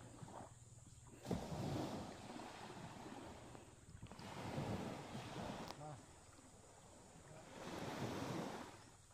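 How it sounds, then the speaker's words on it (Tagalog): Ocean waves wash onto Talisay Beach in Ferrol, Romblon, in slow, rolling surges that swell and fade, with steady wind buffeting the microphone. "As I watch the rhythmic kiss of the waves on the beach, is really relaxing."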